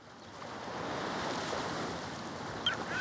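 Ocean surf at Cape Hatteras in the Carolinas washes in as a broad, steady rush that swells and eases slightly, with wind buffeting the microphone and no voices.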